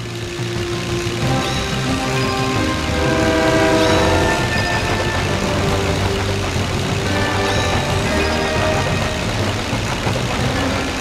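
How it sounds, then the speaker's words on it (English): In the PC game Disney's Planes, a loud train rolls past with clattering wheels while a horn sounds in long blasts over it, backed by game music. "I wonder if any of my fans are on that train."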